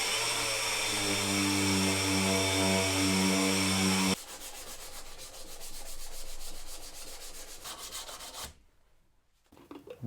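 Power sanding of a wooden toothbrush holder, a steady loud whine for about four seconds, then a lighter buzzing rasp as the sander winds down and cuts off near the end.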